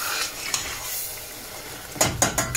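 Softened tomatoes and onions sizzle steadily in oil in a pan for a chicken keema curry, a continuous close frying hiss ending with a few sharp spoon-against-pan scrapes and clatters.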